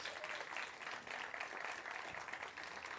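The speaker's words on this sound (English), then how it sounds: "Big round of applause for them," Audience applause as a panel is invited on stage at a live Google lightning talks event in Cannes, a continuous, even patter of many hands, fairly quiet and distant, with faint crowd voices beneath.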